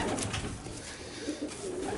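A male racing pigeon coos in a loft in Romania, soft throaty coos repeating close by over a hissy background.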